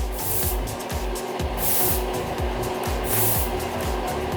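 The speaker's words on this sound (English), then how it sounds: "So kind of like spray it 6 inches away from your face" Repeated hissing bursts of a fine mist spray, about three short pumps spaced apart over a steady background hum.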